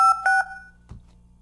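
A few short, clean touch-tone beeps from a phone being dialed with a phone card in a video game, two quick tone bursts followed by a soft thud and quiet.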